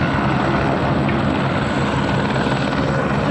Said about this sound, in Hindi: सामने पे हेलीकॉप्टर भी लैंड कर चुका है